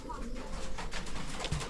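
Pigeons cooing on a roof, soft low coos under a steady background hum, fairly faint and distant.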